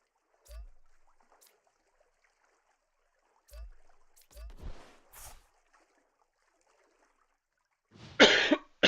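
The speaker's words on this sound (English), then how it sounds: "Sorry for the coughs." Several sharp coughs and throat clears from a person close to the mic, scattered across a mostly quiet stretch, with a louder burst of noise near the end.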